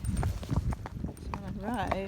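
A gaited Tennessee walker horse walks over trail obstacles, its hooves giving soft, uneven clip-clop beats close by. A person talks over the hoofbeats.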